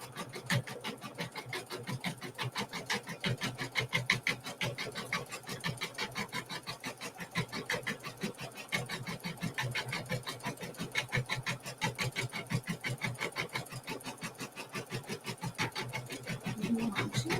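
A sewing machine stitches through a quilt segment with batting inside, a rapid, even mechanical chatter running continuously at close range, steady in pace with slight swells in loudness.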